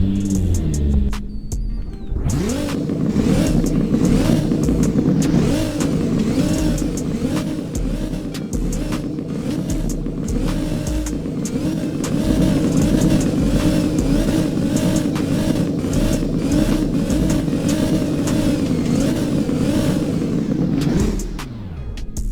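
A tuned drag-build Nissan GT-R engine in a video game cranks over and fires up, then revs repeatedly in loud, rising and falling bursts for about twenty seconds before cutting off.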